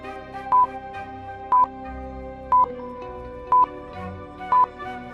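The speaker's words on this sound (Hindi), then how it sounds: "मेहुल फोन नंबर के बटन प्रेस करता है और लैब के अंदर चले जाता है" Phone keypad buttons are pressed one after another, each giving a short, clear dial tone at an even pace of about one per second, five presses in all, over steady background music.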